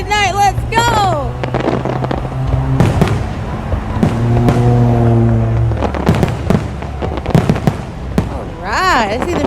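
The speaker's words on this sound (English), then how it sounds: "I see the pretty fireworks though." Fourth of July night fireworks show with repeated booms, crackles and sharp pops bursting in quick succession, some near and loud, others farther off, with people talking and shouting over the display.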